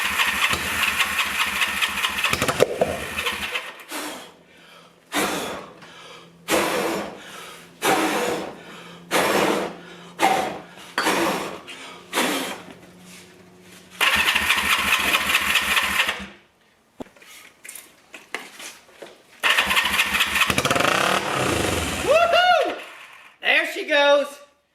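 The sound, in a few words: Honda CB360 motorcycle engine starting and running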